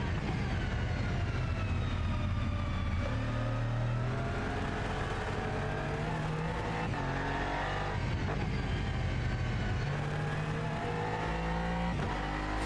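A GT3 race car engine in Automobilista 2 revs loud and continuously, rising and falling through the gears as it is driven hard on a track lap. No talk can be heard over it.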